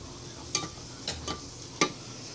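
Vegetables cooking in a pot for Chinese-style rice, a faint background sizzle broken by a few brief scraping stirs of a ladle, with no talking.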